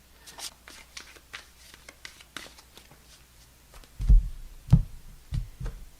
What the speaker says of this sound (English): I've been shuffling, so I'm going to shuffle quickly